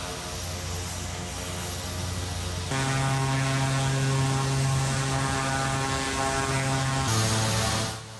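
A Pilatus PC-6 Porter turboprop drones loudly with a strong steady propeller hum and buzzing harmonics, shifting pitch partway through before easing off at the end, near and continuous with no voices.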